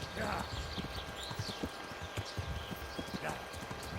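Horse hooves gallop in the Kingdom Come Deliverance video game, a fast, steady clip-clop rhythm close by, with a voice speaking briefly over it.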